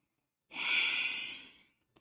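A single long, airy exhale, close and steady, fading out after about a second in otherwise quiet surroundings.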